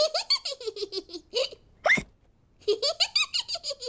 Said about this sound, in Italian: ha bevuto troppo in fretta e ora ha il singhiozzo